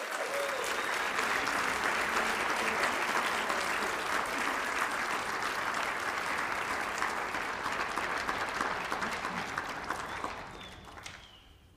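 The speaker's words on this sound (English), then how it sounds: "So let's hear it once again for one of our great American riders, Beezie Madden." An audience at an equestrian awards ceremony applauds an award winner, with steady, dense clapping lasting about ten seconds before tapering off near the end.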